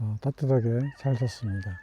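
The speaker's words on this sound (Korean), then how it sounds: "낮에는 닭들이 울고" A rooster crows in the morning at a car-camping spot in Korea beside a Sorento, the call thin and partly buried beneath a person talking close by throughout.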